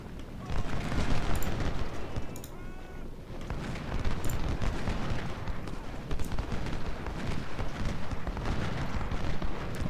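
Cannon fire in an American Civil War battle at Corinth, Ultimate General: Civil War: a dense, continuous barrage of booming artillery and crackling volleys with sharp reports punctuating the rumble, loud and sustained without a break.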